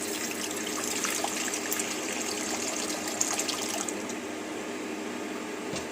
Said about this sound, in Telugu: వాటర్ పోస్తున్నాను.